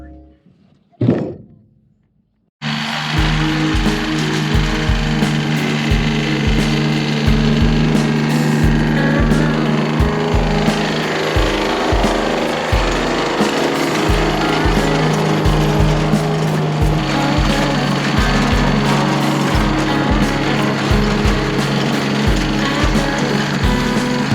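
A Husqvarna 545 Mark II chainsaw cutting firewood starts after a brief pull, then runs loud and close with a rough, pulsing engine note and rhythmic chugging throughout.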